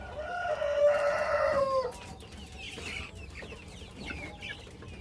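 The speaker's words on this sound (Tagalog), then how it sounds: "So ito yung ating rooster." A breeder rooster of a bamboo-line gamefowl flock crows once, loud and close, then chickens cluck softly and intermittently in the background.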